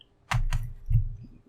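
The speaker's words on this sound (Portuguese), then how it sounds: "Teclado." A few keystrokes on a computer keyboard at a Linux terminal: two quick close clicks followed by a third, then quiet, with nothing else heard.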